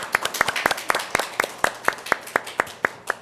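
An audience at a policy forum claps steadily for a speaker being welcomed, with crisp, evenly spaced hand claps that sound fairly close, like a small, sparse crowd rather than a roaring hall.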